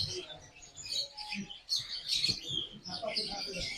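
Several birds chirp and twitter in bright, overlapping bursts, fairly close, with low rustling and faint background murmur underneath, at Darjeeling Zoo.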